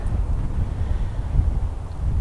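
Strong gusts buffet the microphone outdoors, a loud, continuous low rumble with fluttering bursts and no other sound or talking.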